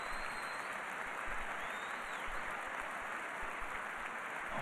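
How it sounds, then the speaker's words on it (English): Stadium crowd applauds before a 2007 Belgium versus Portugal football qualifier kick-off, a broad, constant roar of distant clapping filling the ground without pause. "a minute of applause, as they do in Belgium"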